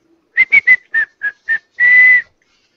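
A person whistles a short tune solo: six quick clear notes in a bouncy rhythm, ending on one long held note, close and fairly loud with no talking.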